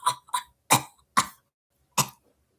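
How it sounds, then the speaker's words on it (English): A series of five harsh smoker's coughs in quick succession, each a short, rough burst with brief pauses between them. The coughs are close and fairly loud, with no talking around them. "Y'all got some smoker's cough like nobody's business."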